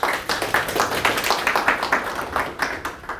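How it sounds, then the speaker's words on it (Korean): An indoor audience at a Korean lecture event claps together, giving dense rhythmic applause that swells and fades in waves over a few seconds. "다시 한 번 더 박수 한번"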